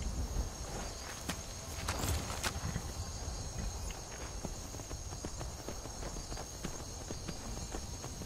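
Horse hooves clop in a steady rhythm while riding and fighting on horseback in the video game Skyrim, set against a layer of chirping insects and ambient game sound, with no talk.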